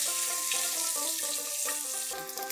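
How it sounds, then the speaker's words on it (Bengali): Duck eggs fry in a pan with turmeric, salt and chilli powder, giving a steady close sizzle heard alone with no talk. "ডিমগুলো আমি লালচে করে ভেজে নেব"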